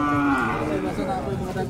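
Water buffalo lowing at a busy livestock stockyard, a long deep moo held near and loud, then trailing into overlapping calls and crowd murmur.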